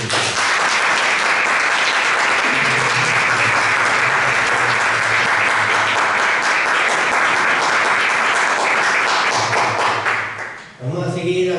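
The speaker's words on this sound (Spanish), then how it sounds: "Dame un fuerte aplauso a Cristo Jesús." Sustained, loud applause from a large church congregation, clapping steadily for about ten seconds before fading, followed by a voice.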